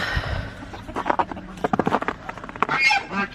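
Geese honking in a farmyard on a sunny morning among ducks and chickens, a string of loud, close, irregular calls with some shuffling noise underneath.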